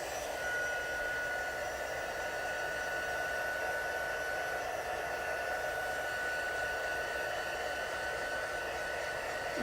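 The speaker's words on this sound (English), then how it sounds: "My heat tool, because I do need to stamp on this, and so I'm just going to take and dry this as much as possible" A heat tool blows steadily to dry damp card stock before stamping, a constant loud whooshing hiss with a faint high whine, running unbroken throughout.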